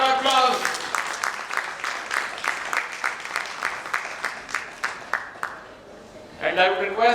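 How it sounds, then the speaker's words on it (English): Applause breaks out at a medical society felicitation ceremony, a room of hands clapping steadily for several seconds before fading, with a voice speaking at the start and again as it ends. "A big round of applause"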